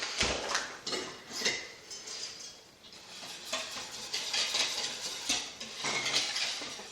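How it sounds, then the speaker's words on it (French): A spoon stirs flour with tablespoons of sugar in a bowl for a strawberry tart, giving a run of close scraping clinks and taps against the bowl in uneven bursts, with a short lull midway. "la mélanger avec nos 3 cuillères à soupe de sucre. Et bien mélanger pour le moment"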